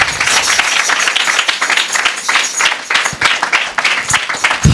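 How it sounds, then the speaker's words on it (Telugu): A church congregation claps during a Sunday sermon, dense sustained applause from many hands filling the space, loud and continuous with uneven swells. "ఇప్పుడు క్లాప్స్ కొట్టండి, just give claps to the lord."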